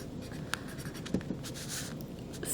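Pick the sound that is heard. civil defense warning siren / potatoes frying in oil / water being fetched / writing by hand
writing by hand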